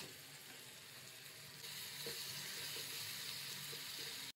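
Chicken with mint and tomatoes fries in a pot, sizzling steadily while a spoon stirs it, the crackle growing louder partway through, with soft scraping knocks and no speech.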